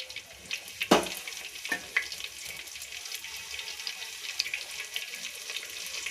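Chopped onion dropped into hot oil for a homemade handi chicken, giving a steady soft sizzle with a brief louder splash near the start, no voices.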